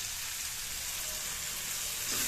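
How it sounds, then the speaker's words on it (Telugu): Curry leaves sizzle in hot tempering oil for upma, a steady, close crackling hiss that holds evenly throughout and grows slightly louder at the end. "ఇప్పుడు తాలింపు వేసేటప్పుడు ఫైనల్గా కరివేపాకు వేసుకోవాలి"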